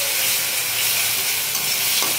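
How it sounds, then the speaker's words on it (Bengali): Loud, continuous sizzling close by as ginger, garlic and cumin paste fries in oil, with light stirring scrapes and one brief clink near the end and no voices. "আদা বাটা, রসুন বাটা, জিরা বাটা দিয়ে নিচ্ছি। এবার আমি একটু কষাবো আর কি"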